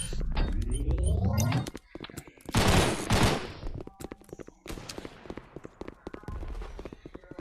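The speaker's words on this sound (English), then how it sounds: "I'm using my pistol" Gunfire in the video game Gun Raid: rapid, loud repeated shots and bursts, with pistol fire among them, close and punchy, mixed with clattering game effects and brief pauses.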